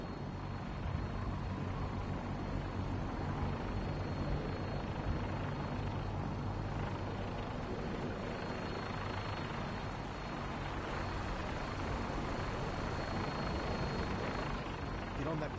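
Military gunship helicopter in Fallout 4, its rotor thudding loud and steady throughout, close and continuous, with a low engine drone underneath.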